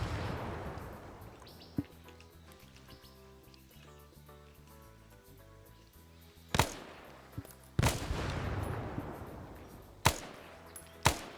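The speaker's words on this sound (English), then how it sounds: "See some shots coming into his arm." In a Vietnam War video game, a few sharp gunshots crack out of a busy battle soundscape, one early and several louder reports in the second half at uneven intervals.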